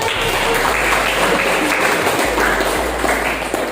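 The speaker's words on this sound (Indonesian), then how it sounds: "Tepuk tangan" Loud, continuous applause from a sizable school class audience, a dense clapping texture filling the whole stretch with a faint low hum beneath.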